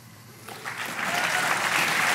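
Audience applause at a conference gathering, swelling from scattered claps to a fuller, steady round that keeps building to the end.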